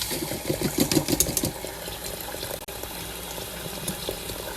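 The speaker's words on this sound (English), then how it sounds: "rinse my rice until my water runs clear" Parboiled rice is swished and rinsed by hand in a bowl of water, with sloshing splashes and running water early on, then a steady watery hiss, close by with no talking.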